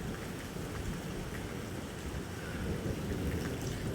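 Heavy rain pouring steadily outside a home, with the roar of falling water on surfaces continuous and close for the whole stretch, and no voices.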